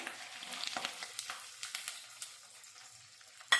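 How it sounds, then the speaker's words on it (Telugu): Scattered quick pops and crackles of tempering seeds sputtering in hot oil, fairly soft and close, thinning out toward the end. "మనకు తాలింపు గింజలు ఎగితే సరిపోతుంది"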